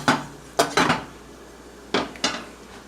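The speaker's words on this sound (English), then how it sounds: "Go ahead and give it a quick stir. So it's not sticking and burning." A utensil scrapes and knocks against a pan while food is stirred, five sharp clattering strokes in two quick bursts, close and clear with no talk.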